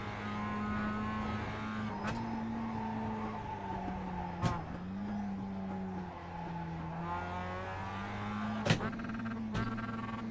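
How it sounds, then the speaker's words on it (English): An IMSA GT3 race car at Watkins Glen in iRacing, its engine droning at high revs with pitch sweeping up and down and brief sharp spikes near the limiter, plus some tyre squeal, steady and close with no voices. "You can't let that rev too much. It hits the limiter right on the red."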